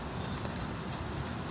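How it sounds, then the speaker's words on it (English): Steady rainfall pattering on surfaces, a dense, even hiss of drops heard up close and alone, used as ambient background for lo-fi recordings. "the sound of rain is very"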